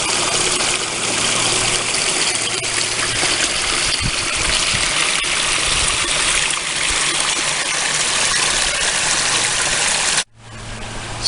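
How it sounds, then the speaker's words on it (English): A creek flows through rural Smoky Mountain property after rain, a loud, steady rush of running water lasting throughout and cutting off abruptly near the end. "having a creek going through."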